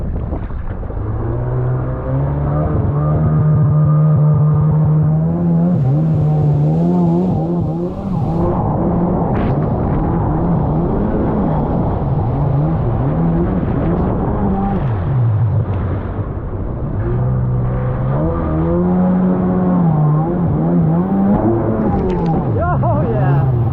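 Yamaha SX-R 800 and SXI 750 jet ski engines, one running lean or rich at low revs, revving hard under throttle in repeated surging waves, loud and close, with a person talking over the engine at times.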